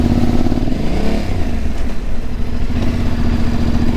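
A heavily loaded adventure motorcycle under way, its engine a loud, steady low rumble with a brief shift in pitch, close and continuous with no talking.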